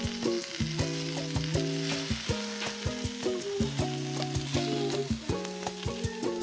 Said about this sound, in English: Check on the roasted meat to see if it is ready.